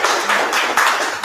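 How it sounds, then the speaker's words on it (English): An audience gives a round of applause after a Python talk at a PyCon APAC 2024 conference session, a dense, steady wash of clapping filling the short moment. "please give him a big round of applause"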